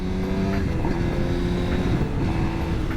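A 2013 Suzuki Gixxer 750 motorcycle engine drones loud and steady close by during an upshift into third gear. The motor holds a constant, rough note the whole time, and no voice is heard over it.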